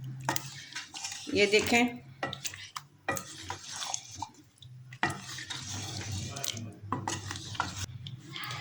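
A spoon stirs chicken palak in a metal cooking pot over a low flame, scraping and clinking in repeated bursts with a faint sizzle, while a person talks throughout.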